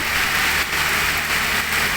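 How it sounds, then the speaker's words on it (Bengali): Heavy rain pours down in a park, a dense, steady hiss of drops hitting surfaces close by, fairly loud and unbroken with no voices. "অনেক বৃষ্টি ঝরছে"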